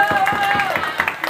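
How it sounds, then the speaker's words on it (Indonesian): Children at a Ramadan festival speech competition final clapping together in a short, loose burst of applause, with a voice and tonal sounds carrying over the claps. "Tepuk tangan dulu."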